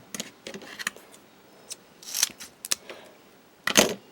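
Scissors snip through cardstock during card making, a few sharp, close cutting crunches spaced irregularly, with the loudest bursts near the middle and end and quiet pauses between.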